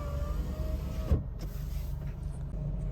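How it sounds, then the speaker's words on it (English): A Renault Wind's electric window motor whines steadily up close, then stops with a soft thunk as the glass seats, leaving a low idle-like hum behind. "We do have electric windows all round, so hold it in, same on the driver's side"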